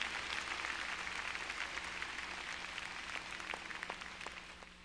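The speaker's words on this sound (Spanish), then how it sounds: "Vamos a darle un aplauso al Señor en esta tarde." A church congregation applauds together, a soft, steady patter of many hands that is heard from a distance and fades slightly toward the end.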